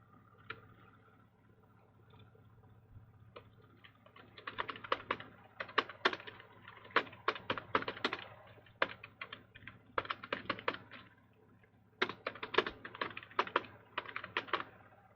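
Bursts of clicky typing on a computer keyboard during data entry, close and fairly quiet, coming in rapid clusters separated by short pauses, with no one talking.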